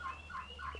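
Turkeys gobbling in a penned turkey farm enclosure, a quick burst of rapid, warbling gobbles repeated three times in under a second, faint and slightly distant.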